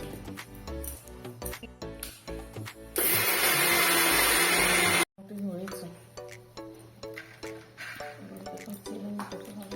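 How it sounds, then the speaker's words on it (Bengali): A mixer grinder grinds soaked, drained rice for pitha in a home kitchen, a loud steady whirring burst of a couple of seconds that cuts off abruptly, with talk and kitchen clatter before and after. "নিয়েছি ঝরিয়ে এখন মিক্সি করে নেব"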